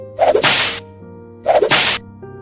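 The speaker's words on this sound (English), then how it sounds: "Pilate had Jesus flogged with a lead-tipped whip" A lead-tipped whip strikes twice in a flogging, each a sharp crack followed by a swishing burst, loud and close, with a low music bed underneath.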